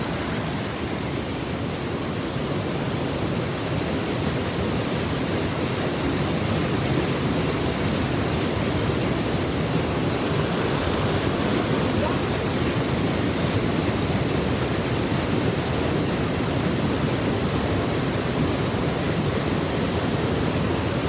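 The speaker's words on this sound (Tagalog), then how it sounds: "Ang lakas ng agos eh oh." Strong river current rushes in a continuous broadband roar at a cast-net fishing spot, loud and steady throughout with no clear speech.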